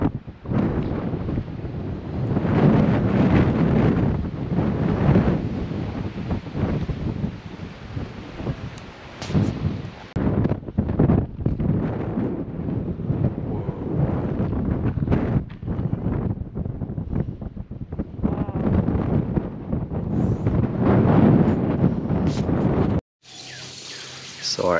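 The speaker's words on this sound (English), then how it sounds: "It's so windy and cold up here." Strong, cold gusty wind at a high spot on Hawaii's Big Island buffeting the microphone, loud and continuous with roaring surges, briefly cutting out near the end.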